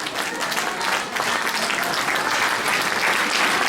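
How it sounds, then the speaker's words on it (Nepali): A congregation at a church's 25th anniversary celebration in Kathmandu claps to welcome a speaker, broad continuous applause filling the room at an even level without pause. "उहाँको स्वागतको लागि ताली बजाइ नै रहनेछौँ"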